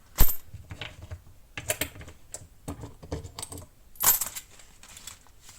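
Handfuls of coins poured and dropped onto a surface in several bursts, sharp metallic clinks and jingles with quieter shuffling between, close by and with no talk.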